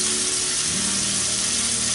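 Tikka boti pieces frying in oil on a medium-low flame, giving a steady, close, loud sizzle with a faint clink of turning partway through.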